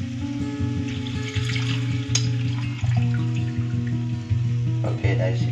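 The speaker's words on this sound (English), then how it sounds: "Okay, so now we're going to put some water." Water poured into a wok of frying fish while cooking ikan asam pedas, a continuous hissing sizzle with splashy, bubbling texture that holds steady throughout, close and fairly loud, with humming background tones and no clear speech.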